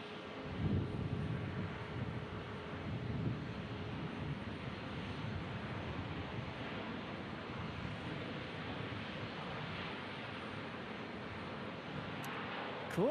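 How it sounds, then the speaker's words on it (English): A plane taking off at Omaha Eppley Airfield, heard as a steady, distant broadband roar with wind noise that holds evenly throughout. "Prepare for takeoff."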